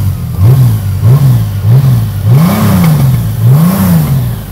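A motorcycle engine revs repeatedly in short rising bursts, about six pulses in a row, loud and close, with a steady idle rumble between them.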